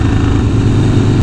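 A Harley-Davidson Sportster 883 motorcycle engine on the move, a loud, steady low rumbling drone throughout the short stretch with no talk.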